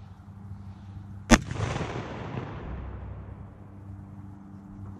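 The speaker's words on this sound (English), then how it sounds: "We have a 1 ounce shotgun slug coming out of a 12 gauge." A single loud blast from a 12 gauge shotgun firing a 1 ounce slug at a military helmet, followed by a long fading rumble and echo in an outdoor setting.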